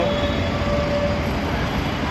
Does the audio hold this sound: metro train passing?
yes